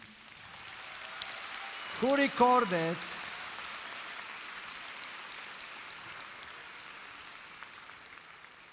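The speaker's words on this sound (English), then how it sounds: "So give a round of applause to this person" Audience at a Webit Awards festival event in Europe giving a round of applause, a steady wash of many hands clapping throughout, with a brief voice speaking over it early on.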